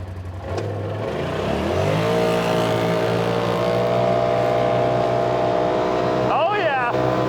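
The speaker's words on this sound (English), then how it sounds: "All right, let's see what the Razor can do." A Polaris RZR side-by-side off-road vehicle in four-wheel drive, high gear, revs up from idle into a loud, steady engine drone close to the listener, with a brief rising whine near the end.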